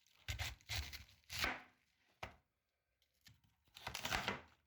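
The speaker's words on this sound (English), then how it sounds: "Slice your cabbage." Knife slicing through cabbage on a cutting board, a run of crunchy close-up cuts in uneven bursts, three quick strokes, a sharp single chop, a pause, then another cluster of crisp slicing.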